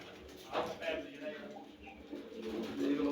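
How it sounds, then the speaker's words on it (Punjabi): Almond-coloured pigeons cooing softly in low repeated bursts nearby at a pigeon loft, mixed with some indistinct voices in the background. "ਇਹ ਆ ਇਤਕੀ ਵਾਲੇ ਬਦਾਮਾਂ ਵਾਲੇ ਕਬੂਤਰ ਫਿਰਦੇ ਆ"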